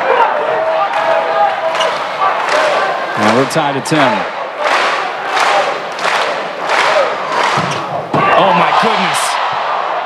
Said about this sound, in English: So the boos turn into uproarious applause.